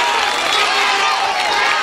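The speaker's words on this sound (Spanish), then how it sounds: "Necesitamos el aplauso fuerte, fuerte el aplauso de ánimo." A large crowd at a carnival queen announcement in Chile cheers and claps continuously, a dense, loud wash of applause and shouting at a distance.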